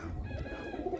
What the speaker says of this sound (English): They're cooing.